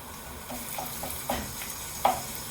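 Onions with garlic and ginger paste sizzle quietly in a pan while a spoon stirs, producing a series of soft, spaced scraping taps over the frying hiss.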